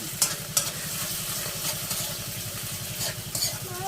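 Filipino sisig sizzling hard in a hot pan as an egg is added: a steady, loud frying hiss with a rapid crackling pulse underneath and a few sharp clinks of a utensil against the pan.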